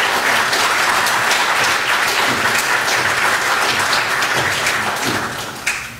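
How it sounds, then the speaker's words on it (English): Sustained applause from a large congregation at an international church assembly service, dense and steady throughout before tapering slightly at the end. "this earns even an added applause for the extra effort they do"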